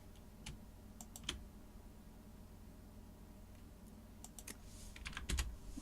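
Sparse keyboard typing during a game development stream, scattered clicky keystrokes in small bursts over a low steady room hum, fairly quiet and close, no talking.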